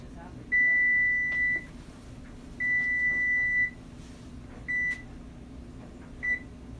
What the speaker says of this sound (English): So when you hear that beep,